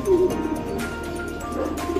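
Pigeons in a loft cooing nearby, soft low throaty coos repeating under a faint background hum, with no talk.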